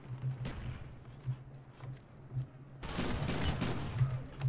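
Gunfire in the video game Black Ops 1 on PC, a rapid series of sharp shots with a repeating low thump, then a dense, loud burst of fire in the final seconds.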